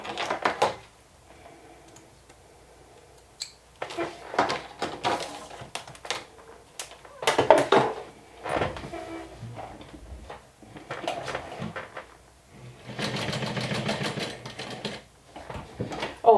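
A sewing machine stitches fabric for a Nintendo Switch case, running in short, separate bursts of rapid mechanical clatter broken by quiet pauses, heard close up with no talking.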